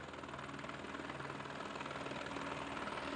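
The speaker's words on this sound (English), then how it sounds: "as you can clearly hear that helicopter right above us" Helicopter hovering directly overhead during a flood search in Kerrville, Texas, a loud, steady rotor drone with rhythmic blade chop that fills the whole stretch.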